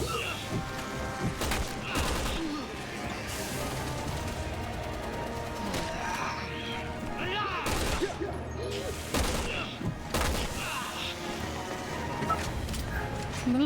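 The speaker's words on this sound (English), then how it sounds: "I'm literally shooting that man's little" Repeated bursts of gunfire in Resident Evil 6 ring out loudly, with rapid volleys and heavy booms layered over game effects, continuing throughout with hardly a pause.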